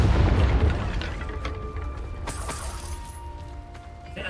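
A Confringo fire spell blasts in Hogwarts Legacy, a loud booming explosion followed by shattering debris and a fading rumble, heard alone with no talk.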